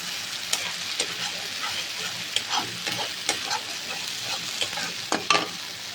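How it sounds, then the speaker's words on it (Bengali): A paste of ground cashew, coconut, poppy seed and raisin fries in a pan for kachakolar kofta curry, with a steady sizzle and repeated scraping strokes of a spatula stirring it, close and moderately loud. "কাজু, নারকেল, পোস্ত আর কিশমিশ বাটা। দিয়ে এটা একটু ভাজবো একটু ভালো করে।"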